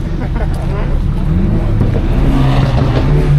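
A car engine running hard and revving, a loud close continuous drone with rising tonal harmonics toward the end, with voices talking over it.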